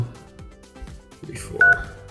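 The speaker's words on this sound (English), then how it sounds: "I'm dialing an E.164 format just for our testing purpose" DTMF keypad tones from a 3CX softphone dial pad as a number is entered, a quick run of short tonal beeps with a louder tone near the end, close and clean with no talk over them.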